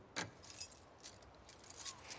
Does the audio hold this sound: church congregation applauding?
no